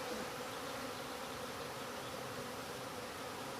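Honey bees from a backyard hive drone in a steady, dense buzz that holds close and even throughout, with no voices.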